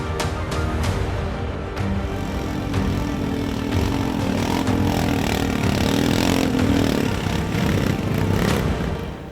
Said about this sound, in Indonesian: Tim Indonesiaku harus menumpang motor modifikasi yang mampu mengangkut muatan lebih banyak